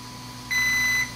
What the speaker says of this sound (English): So 3 beeps now means it's level 3.